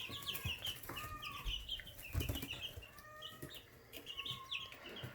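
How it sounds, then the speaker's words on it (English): Backyard chickens clucking repeatedly at close range, with short rising calls and a brief flutter of wings, no talking. "These are our chickens."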